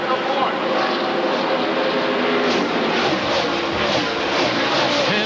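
Roaring race truck engines in a NASCAR Craftsman Truck Series race on a flat track, a continuous loud broadband drone of several trucks passing, with a commentator talking over it.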